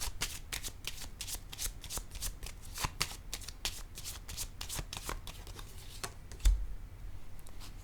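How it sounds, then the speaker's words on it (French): Tarot cards are shuffled in a rapid, close, steady riffling patter, then a card is set down with a soft tap near the end; no one speaks. "Je vais déposer une carte ici."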